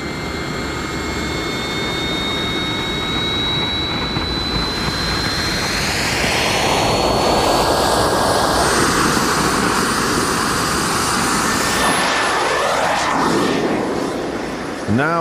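Homemade jet engine burning camping stove fuel roars loudly and steadily throughout, with a rising whine that builds and shifts pitch, while someone talks over the noise.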